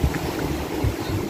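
Strong sea waves at an outdoor shore make a continuous low rushing roar with churning surges, close and fairly loud, with no voices.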